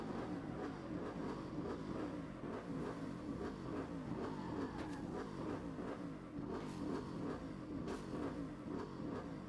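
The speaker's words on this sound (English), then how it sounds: "you can hear the engine noise. You hear that boom, boom, boom. Like I'm just drifting." Video game car engine in Saints Row during a drift, a low rumbling engine with a pulsing, booming rhythm that holds at moderate level from start to end, with no talking.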